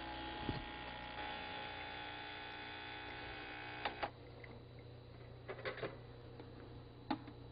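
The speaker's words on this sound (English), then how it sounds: "Place the shot glass underneath the portafilter and make sure the ready light is green, then depress the brew button" Starbucks Barista home espresso machine brewing a shot into a glass under the portafilter, a steady electric pump hum with a few sharp clicks and knocks scattered through, quiet and close.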